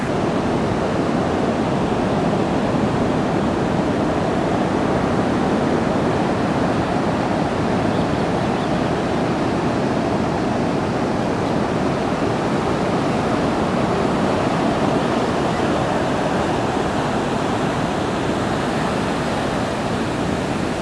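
Steady roar of surf washing in without pause at Meyers Creek Beach on the Oregon coast, a broad wash of water noise with a little wind, no voices.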